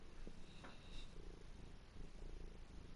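A cat purrs softly and steadily up close in a quiet indoor room, a low continuous rumble with faint rhythmic pulses and a few small rustles.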